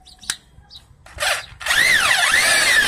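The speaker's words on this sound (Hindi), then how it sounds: "ड्रिल को उल्टा साइड के लिए हमने किया है" A power drill set to reverse unscrews a fastener during an ABS setup; after a few short clicks and a brief whir, the motor spins up into a loud, steady whine with rising and falling pitch.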